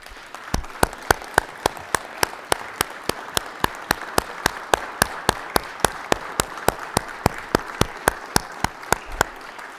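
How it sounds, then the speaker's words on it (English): A steady round of applause in a state Senate chamber, many hands clapping in a dense, continuous patter with sharp individual claps standing out, loud and close. "let's give them a round of applause and a welcome to our Senate body"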